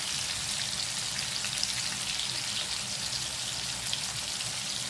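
Konem fish frying in oil in a pan, a steady, loud, continuous crackling sizzle that holds evenly throughout with no talking.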